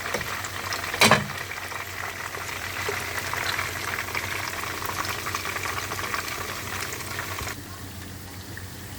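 Food goes back into hot cooking oil and fries with a steady, dense sizzle and bubbling that lasts throughout, opening with a sharp splash as it drops in and easing slightly near the end.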